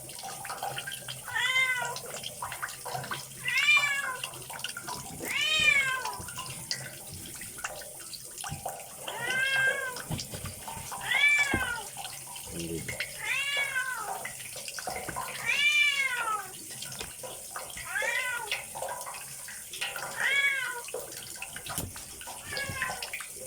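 A cat meows over and over in a steady series of insistent cries, set against a constant wash of running water.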